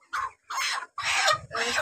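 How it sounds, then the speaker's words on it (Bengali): A plump rooster of about 3.5 kg gives four close, loud clucking bursts in quick succession, each separated by a short silence. "মোরগ।"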